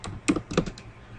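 Quick bursts of clicking keys on a computer keyboard, about five or six sharp taps in an uneven rhythm, close and clear with no talking.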